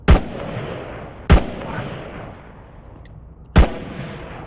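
Three single gunshots in the VR shooter Onward, each a sharp, loud crack with a short reverberant tail, spaced irregularly over a few seconds above a steady background hiss.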